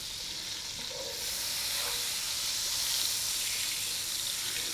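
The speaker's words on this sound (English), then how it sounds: "we're going to add 2 knobs of butter. Together with a little bit of olive oil so the butter don't burn." Knobs of butter with a little olive oil hit a hot pan and sizzle, a bright steady hiss that swells after the first second and holds loud and continuous with no talking.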